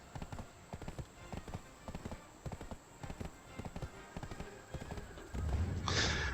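Horse hooves clip-clop in a quick, even rhythm as a horse is ridden in Black Desert Online, fairly close and moderate in volume. A whooshing burst of game noise covers the end.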